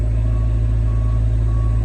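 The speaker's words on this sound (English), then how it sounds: "We're able to back the truck all the way to the filter" A truck backs up toward a pond filter at a job site, its reversing alarm beeping steadily in a repeating pattern over a loud, continuous engine idle close by.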